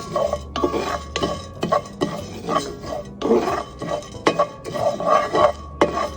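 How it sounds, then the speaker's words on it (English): Sunflower seeds roasting in a pan for Ayurvedic date bars, stirred with a utensil that scrapes and clinks against the metal in repeated irregular strokes, close and loud with no talking. "Since sunflower take a little longer to roast, so I'm gonna add that one first."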